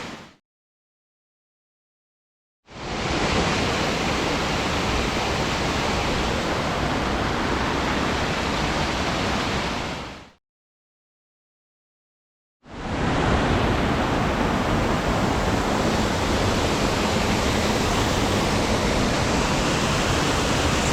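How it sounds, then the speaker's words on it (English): A waterfall on the Red River in a gorge on Cape Breton Island roars as a steady, loud, broadband rush of falling water, heard in two long unbroken stretches separated by brief silences. "Second significant fall on Red River. This one is a beauty."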